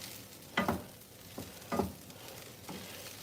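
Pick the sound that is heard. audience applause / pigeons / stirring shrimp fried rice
stirring shrimp fried rice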